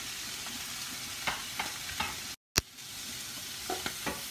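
Carrots and pepper sizzle steadily in a hot pan while a utensil scrapes and stirs them in several soft strokes, close and moderately quiet, with a brief cut in the middle.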